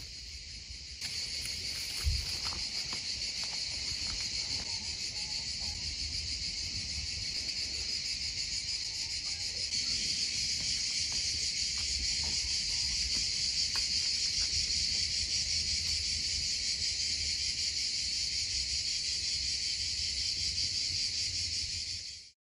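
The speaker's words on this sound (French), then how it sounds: "je vous laisse profiter du chant des cigales" Cicadas sing in a vegetable garden, a loud, unbroken high-pitched buzzing chorus that holds steady for over twenty seconds with faint rustles beneath and no talk.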